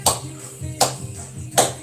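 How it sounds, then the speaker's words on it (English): Three sharp, evenly spaced claps about three-quarters of a second apart ring out close and loud over faint background music during an exercise session. "Let's clap along, yeah."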